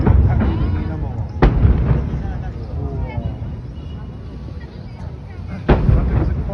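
New Year fireworks launched over the Tamsui sea-crossing bridge, distant booms and crackling bursts under a crowd and excited voices talking nearby.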